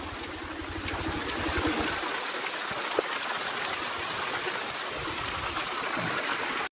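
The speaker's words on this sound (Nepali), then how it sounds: "एकदम पानी परेको अवस्था" Steady heavy rain pours onto a slippery highway road on a ride from Kathmandu to Nuwakot, a dense continuous hiss of drops with a low rumble fading early, no voices.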